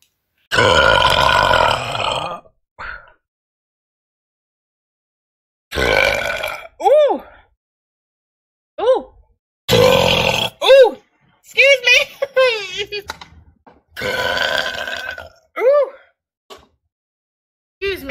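A series of loud, close burps follow chugging Dr Pepper. Several long, deep belches come in separate bursts with silent gaps, mixed with short grunting vocal sounds.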